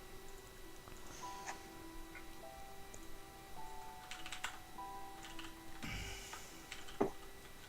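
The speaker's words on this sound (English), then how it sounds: "I'm going to mute myself while I just type with Jacob because I've got a loud keyboard." Someone types on a loud computer keyboard, producing irregular bursts of sharp clicking keystrokes over a steady faint background tone and hum, with a heavier thump near the end.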